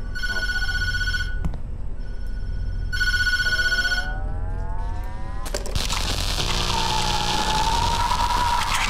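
In the horror video game Tattletail, a telephone rings in two loud electronic bursts at night, followed by rising synthetic tones and a sudden swell of eerie game ambience.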